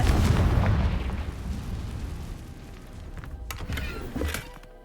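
The Confringo blasting spell goes off in the Hogwarts Legacy video game as a deep, booming explosion that fades away, followed by a few softer pops and crackles.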